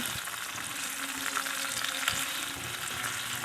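Shrimp fry in a pan while being cooked for ginataang labong with coconut milk, a loud continuous sizzle up close with a few faint scraping stir sounds mixed in and no talking.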